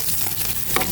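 Onion and chili sauté in a hot non-stick pan, giving a brief, steady close sizzle with a short stirring scrape near the end.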